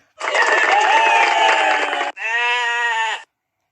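A sheep bleats twice up close, a long wavering cry followed by a shorter, steadier one, then silence.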